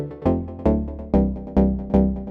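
Speed garage bass synth preset built in Serum, playing five punchy, evenly spaced bass notes with harmonic-rich, buzzy attacks and sustained low tones, loud and alone with no talking.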